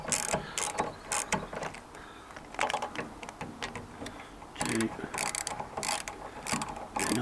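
Bolts on a Land Rover Discovery 2 TD5 power-fold electric door mirror are undone with a ratchet, giving quick clicking bursts in short irregular runs, close and fairly quiet.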